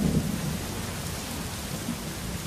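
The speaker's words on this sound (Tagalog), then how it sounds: "Uy, umuulan!" Steady, dense rain pours close by in a thunderstorm, with a low rumble of thunder swelling at the start under the constant hiss.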